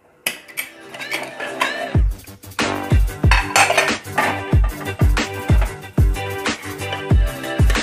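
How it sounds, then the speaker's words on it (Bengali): A metal pressure cooker lid comes open over chana masala, followed by a run of sharp metallic clinks and knocks of pot and lid. The hits come fast and rhythmic, close and ringing. "তো এবার আমি প্রেশার কুকারের লিডটা খুলে দেখবো"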